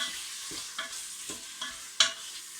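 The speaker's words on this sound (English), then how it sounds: "Keep that stirring so it doesn't stick." A spoon scrapes and stirs a frying jollof rice base in a pot, soft sizzling with a few distinct stir knocks, fairly quiet and close.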